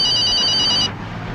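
A mobile phone ring tone with steady bright tonal pulses, loud and close, that plays for just under a second and then cuts off abruptly into quiet room tone.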